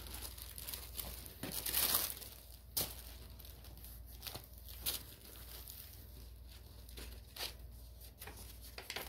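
Crinkly wax order packaging being cut open, a quiet run of crumpling and tearing rustles with a brief louder burst early on, then scattered soft clicks and crinkles, with no talking.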